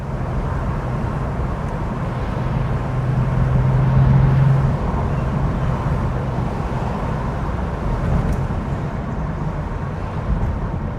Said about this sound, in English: Downshift to third, open her up some.